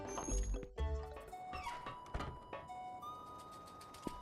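Bombling item in Twilight Princess placed on the ground and skittering away, a quiet series of small thunks, clicks and chirpy game effects scattered over a few seconds, faint with no talk.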